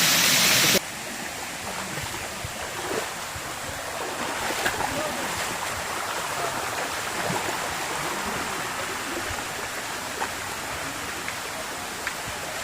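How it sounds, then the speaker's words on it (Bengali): A small stream at Phultoli waterfall near Napittachhara, Sitakunda, rushes in a steady, broadband hiss of running water throughout, fairly close and even, with no voices over it. "এটি হচ্ছে ফুলতলি ঝর্ণা।"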